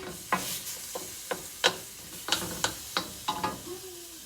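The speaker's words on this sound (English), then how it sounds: "Look how fast that ground beef cooked right up." Ground beef and garlic cooking in a pan, heard as a series of sharp stirring scrapes and bursts of sizzle at close range, with no talking.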